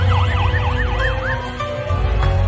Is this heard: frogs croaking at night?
no